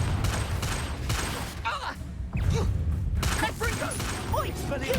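Blasting spell bursts in a Harry Potter game, loud crackling explosive hits layered with rapid spell effects and voices shouting incantations.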